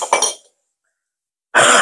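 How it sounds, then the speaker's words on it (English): A short burst of coughing up close, then silence for about a second before another loud harsh cough. "And I'm still coughing."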